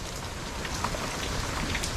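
Steady rain pours down during a tropical storm, a dense, continuous hiss of drops striking surfaces at fairly close range, with no voices.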